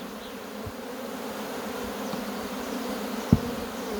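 Honeybees in an opened hive as frames are slid back in, a steady low insect hum running throughout at moderate level, with a single soft thump near the end and no talking.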